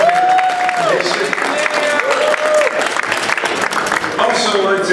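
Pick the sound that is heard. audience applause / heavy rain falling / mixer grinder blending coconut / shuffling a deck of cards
audience applause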